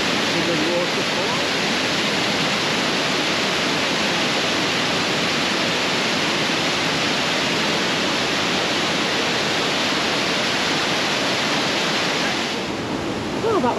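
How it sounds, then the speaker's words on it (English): Waterfall rushing in a village at Hawes, a loud, steady broadband roar of falling water that continues unbroken close by before cutting off abruptly at the end. "See the waterfall."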